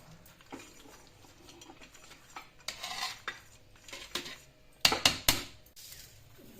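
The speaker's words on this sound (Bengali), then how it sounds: "ভালো করে এবার আমি এটার মধ্যে মিশিয়ে নিচ্ছি। কাজু কিশমিশগুলো ছড়িয়ে দিচ্ছি।" A metal spoon scrapes and clinks against a pan while cashews and raisins are stirred into vegetarian bhuna khichuri, with soft irregular scraping that builds to a few sharp, close taps near the end; no voices.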